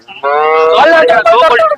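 A large HF dairy cow at a cattle market lets out a loud, close moo that holds steady and then breaks into a wavering, stuttering bellow, all in under two seconds.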